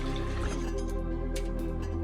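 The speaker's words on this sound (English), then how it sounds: "I'm going to pour another half pint of water in there" Half a pint of water poured into a cooking pot of Ghanaian jollof rice, heard as a soft, steady liquid trickle with faint drips under a low background hum, no talking.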